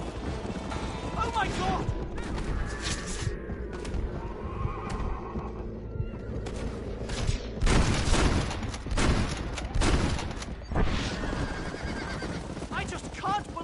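A horse in the game Red Dead Redemption whinnies and clip-clops while galloping, mixed with booming gunfire and crashes, under excited talk and a shout.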